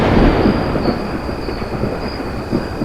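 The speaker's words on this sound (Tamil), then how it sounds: "இடி மின்னலுமா இருக்கு? மழை வருமா?" Thunder rolls in a deep, loud rumble that swells at first and then drags on steadily, with a faint high tone held underneath and no voices.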